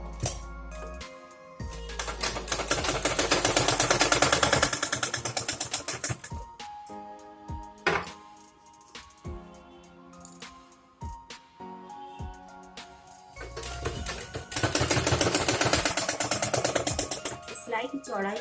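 Machine stitching along the hem of a boat-neck suit, with two long dense runs of rapid, even needle chatter separated by quieter pauses, some clicks and handling noise.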